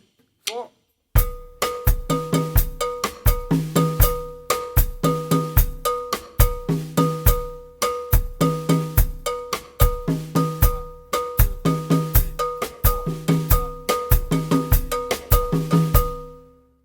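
Drum kit playing a 12/8 Afro-Cuban groove with cowbell, crisp repeating strokes in a rolling triplet pattern after a brief quiet start, close and steady throughout with no talking.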